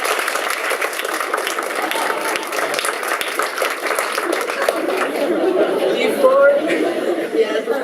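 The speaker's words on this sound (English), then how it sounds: "So I think we should give him an applause." Audience applause at a Kane Hall event on the humanitarian crisis in Syria, for a guest joining from Turkey; a steady wash of clapping mixed with crowd chatter and voices, continuous and fairly loud.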